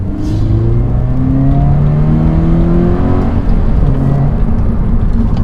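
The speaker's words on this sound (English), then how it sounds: "we can hear that induction sound from the induction kit" Deep, throaty engine and induction roar from a Toyota GT86 fitted with a Mishimoto performance air intake, droning loud and continuous on the road as revs sweep smoothly up and down.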